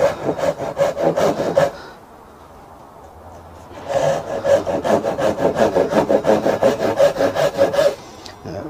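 Japanese hand saw cutting 2x3 construction timber: a quick run of rhythmic rasping strokes, a brief pause, then a longer steady series of close, crisp back-and-forth saw strokes.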